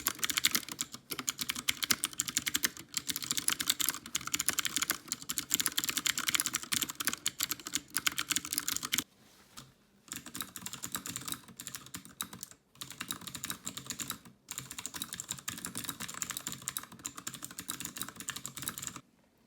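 Rapid clacking of a Ducky mechanical keyboard's keys in dense bursts, with a few brief pauses between runs of typing.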